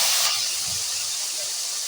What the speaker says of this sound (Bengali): আমি ডুমো ডুমো করে কেটে রাখা আলুগুলো তেলের মধ্যে দিয়ে দেব